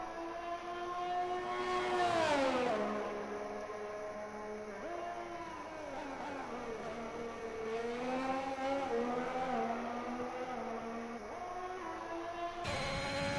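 A Ferrari Formula One car in a racing game sets off on a lap at Bahrain, its engine holding a loud, continuous high-pitched whine that rises and falls through gear changes and revs from start to finish.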